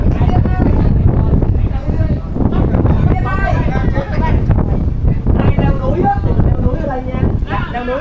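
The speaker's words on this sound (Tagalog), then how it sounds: "Lakas ng hangin." Strong wind at sea on the deck of the Ovation of the Seas cruise ship roars and buffets the microphone steadily throughout, with a person talking over it.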